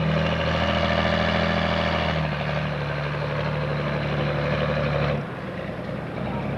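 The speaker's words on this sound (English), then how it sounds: "He's been pulling this tractor for years." A Pro Stock 10,000 lb pulling tractor roars loudly at an Indiana tractor pull, a heavy droning engine with a steady low hum that drops in pitch and shifts partway through, then eases near the end.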